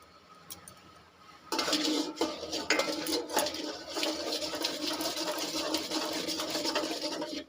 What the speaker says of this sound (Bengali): এটা আমি বারবার নাড়তে থাকছি, নালে নিচেটা পুড়ে যেতে পারে